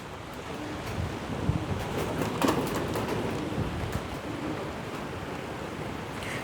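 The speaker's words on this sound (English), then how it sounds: "Oh, there's a bit of wind there." Gusty wind blowing outdoors around a pigeon loft, a steady broadband rush with a few stronger gusts and buffeting against the microphone, no voices.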